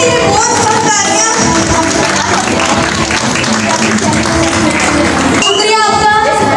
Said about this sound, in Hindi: प्लीज मेरे दोस्त के लिए जोरदार तालियां सर सुल्तान के लिए